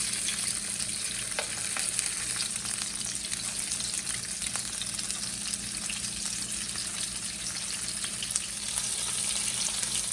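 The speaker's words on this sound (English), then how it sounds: "We'll sear it about a minute on each side." Ahi tuna sears in a hot pan with a steady, dense sizzle that holds at an even level throughout, close and continuous, with no voices.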